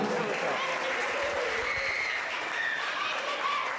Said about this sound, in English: round of applause for Nati